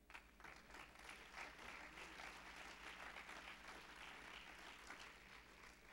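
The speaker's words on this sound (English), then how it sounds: "Let's give the Lord a hand clap." A church congregation claps together during a service, a sustained wash of hand claps heard from a distance at a fairly low level, steady for several seconds without speech.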